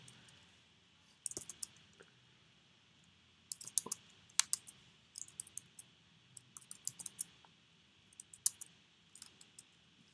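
Irregular bursts of keystrokes on a computer keyboard as code is typed, with brief pauses between clusters of clicks, close and fairly quiet over a faint steady hum.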